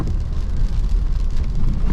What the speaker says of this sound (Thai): ปรากฏว่าฝนตกอีกแล้วนะครับ